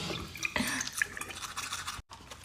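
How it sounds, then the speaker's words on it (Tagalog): A toothbrush scrubs teeth in a bathroom with close, wet, rapid bristle strokes, continuous and fairly loud, pausing briefly near the end. "So, ayan, magtututbrush muna."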